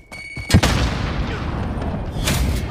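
A sharp, loud grenade blast in Call of Duty Modern Warfare, a Domination match in Azhir Cave, booms once near the start and rolls into sustained rumbling battle noise with distant gunfire.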